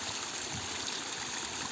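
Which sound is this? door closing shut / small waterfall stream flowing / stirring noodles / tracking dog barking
small waterfall stream flowing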